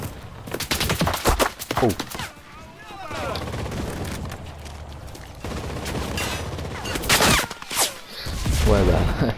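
Rapid gunfire bursts from a machine gun in a war video game, loud and clustered early and again near the end, with someone talking over the shooting.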